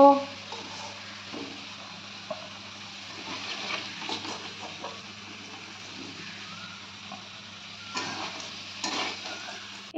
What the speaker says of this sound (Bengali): এবার এই আলু ভাজা তেলের মধ্যেই কিন্তু আমি 1/2 চামচ গোটা জিরে, একটা শুকনো লঙ্কা আর একটা তেজপাতাকে ফোড়ন দিয়ে দিলাম